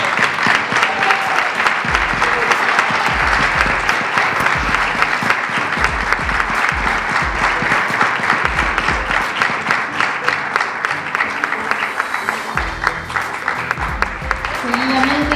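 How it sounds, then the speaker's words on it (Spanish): Sustained audience applause at a 2018 awards ceremony, a dense steady wash of many hands clapping for about fifteen seconds, loud and continuous with some lower thumps mixed in. "Un aplauso, por favor."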